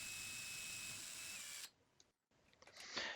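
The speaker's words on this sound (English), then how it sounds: "drill out all 4 holes with a 9/64 drill bit" A power drill with a 9/64 bit boring holes for pipe-flange screws into drywall, a loud close whirring run that cuts off abruptly, followed by faint clicks and handling noises.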